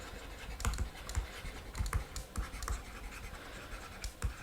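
A marker or chalk scratches across a board during a chemistry lesson, in short, irregular strokes and taps, fairly close but quiet, with no talking.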